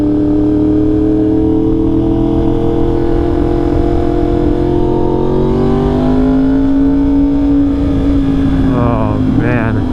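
Yamaha R1 sport bike with an SC Project CR-T exhaust accelerating, a loud, steady close-up engine howl that climbs and falls in pitch as the rider works through the revs.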